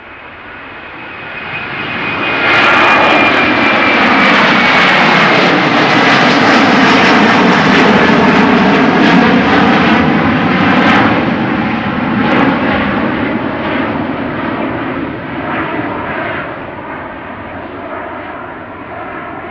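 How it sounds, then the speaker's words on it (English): An Airbus A330-300 airliner at Amsterdam Schiphol airport roars past, its engine noise building over a few seconds, holding loud and broad, then slowly fading away, with no voices. "So this was an Airbus A330-300"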